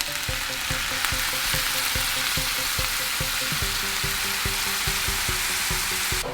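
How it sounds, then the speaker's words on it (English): A steak sears in a hot pan with butter, garlic and rosemary, giving a loud, steady sizzle throughout, with a faint rhythmic beat running underneath and no talking. "Steaks going in with everything in the bag."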